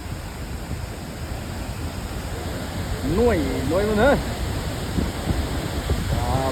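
Khoupum waterfall, a huge waterfall, pours as a steady broadband rush of falling water with a voice talking over it midway.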